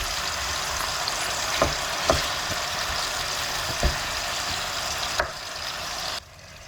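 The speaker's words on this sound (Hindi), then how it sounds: "नमक डाल के इसको मैं फ्राई करूँगी" Minced keema sizzles in a pan with salt, a steady loud frying hiss broken by a few sharp spatula scrapes and knocks, the sizzle dropping off near the end.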